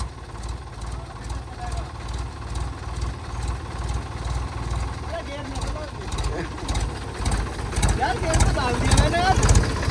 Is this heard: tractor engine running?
yes